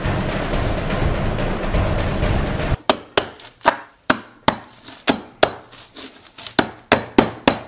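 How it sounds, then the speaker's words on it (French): A steady rough noise gives way to a series of loud, sharp blows from a big hammer striking and crushing ice, roughly a dozen irregular cracking hits. "je vais prendre mon bon vieux gros marteau"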